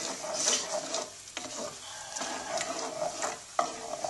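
Stirring tomato sauce with meatballs and a bay leaf in a saucepan, with soft scraping and a gentle simmering sizzle and a few small clinks of the utensil.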